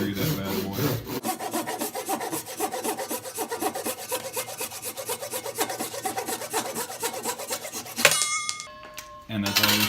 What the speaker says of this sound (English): I don't have a hacksaw, so I'm just gonna use my Ryobi saw